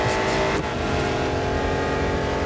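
Racing car engine in the Real Racing 3 mobile game, a loud sustained roar at high revs throughout while overtaking other cars, with a brief dip in pitch partway through as it shifts.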